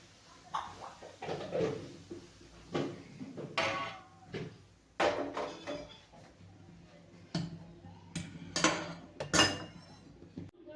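A spoon stirs hot ghee through a semolina and flour mix, giving intermittent scraping clinks and taps against the bowl, close and fairly quiet, with short pauses between strokes.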